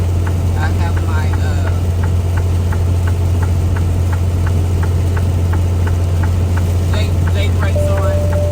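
A heavy truck's engine brake holds a steady, low rumble down a 6% mountain downgrade, with the emergency blinkers ticking in an even rhythm above it throughout.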